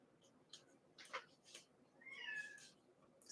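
A cat meows several times, fairly loud and close, with a longer drawn-out meow near the end over a quiet room background.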